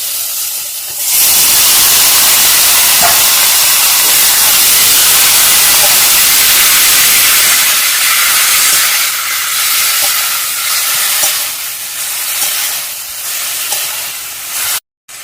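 Taro leaves dropped into a hot pan of cooked-down spices and a little water for Bengali kochu shak burst into a loud, continuous sizzle and steam hiss that holds strong, then gradually softens and flutters toward the end.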